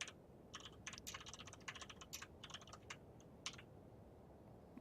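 Rapid, uneven keystrokes on a computer keyboard during an online Total War: Shogun 2 match, clattering in bursts of clicks over a steady low background hum, fairly quiet and close.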